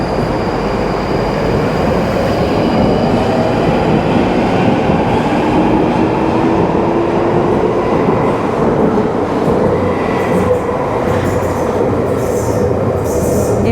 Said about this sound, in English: here is the train which is now departing for Morden